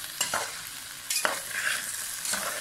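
Okra (bhindi) frying and being stirred in a pan for achari bhindi masala, with a soft continuous sizzle broken by a few sharp scraping clicks of the spatula, fairly quiet and without speech.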